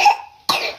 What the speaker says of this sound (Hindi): आज इसकी तबीयत बेहतर है लेकिन इसको खांसी आ रही